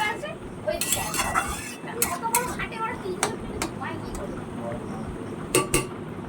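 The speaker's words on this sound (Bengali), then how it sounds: "এটাকে আমি ভালো করে এখন নাড়াচাড়া দিয়ে নেব।" A spoon stirs a pot of dal and meat curry, scraping and clinking against the metal in irregular bursts. Sharp knocks stand out near the start and again toward the end.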